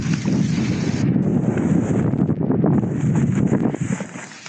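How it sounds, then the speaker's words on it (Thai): Strong wind buffets a tent at a mountain campsite on Doi Samoe Dao, loud roaring gusts pressing against the microphone without a break, then easing slightly at the end. "ตอนนี้ลมยังแรงอยู่นะนี่"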